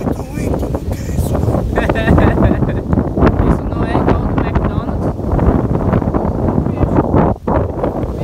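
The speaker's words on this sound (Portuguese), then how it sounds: "Oh, o vento tá fortíssimo, vocês estão vendo o vento?" Strong wind at an apple orchard buffets the microphone with a constant loud, rumbling roar that runs through the whole stretch while people talk over it.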